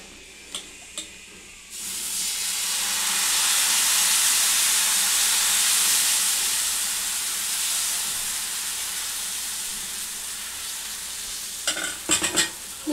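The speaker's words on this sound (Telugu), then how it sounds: "ఇప్పుడు అట్టు పోసుకుందాం." Rice flour batter for masala dosa sizzles steadily on a hot pan, a loud broad hiss swelling and then easing, with a few clinks of a utensil at the start and near the end.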